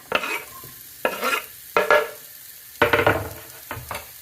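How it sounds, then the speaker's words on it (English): Sliced onions slide into a little hot oil in a frying pan, giving several short bursts of sizzling and scraping with quiet gaps between, close and fairly loud, no voices. "we're just going to slide these onions in"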